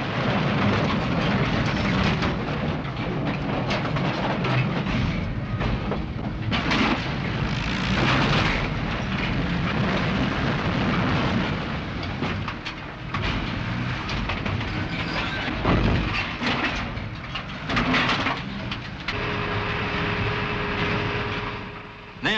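A heavy freight train of scrap-metal wagons rumbles past with continuous clanking and grinding of wagons, loud and steady throughout, with no voices.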